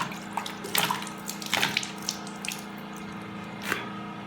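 Water poured over the face runs down and splashes into a basin during a facial rinse, with several splashy bursts over a steady close trickle.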